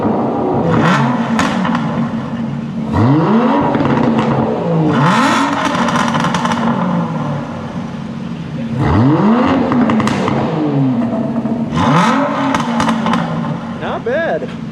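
A stock Aston Martin twin-turbo V12 revs hard in repeated loud bursts, its pitch sweeping up and falling back. The blips come in clusters with brief lulls between them, and voices can be heard around the car.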